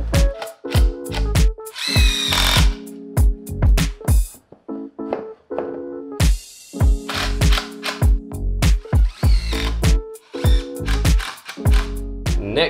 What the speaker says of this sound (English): We drill some holes.